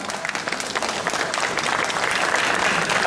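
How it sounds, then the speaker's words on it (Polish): An outdoor crowd in Cieszyn's town square claps for the Cieszynianka municipal brass band, a continuous, dense applause that swells slightly toward the end. "Wielkie brawa!"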